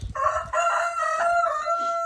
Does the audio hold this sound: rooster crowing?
yes